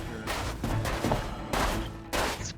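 Rapid bursts of gunfire in the space combat game Star Citizen during a PvP engagement, several loud volleys separated by short gaps, with no talk over them.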